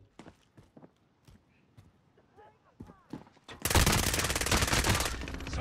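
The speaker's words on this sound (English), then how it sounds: "Taking shots over here." Gunfire during a Call of Duty Warzone Resurgence match: scattered faint footsteps and small clicks, then a loud, sustained burst of rapid automatic fire that lasts to the end, with no talk.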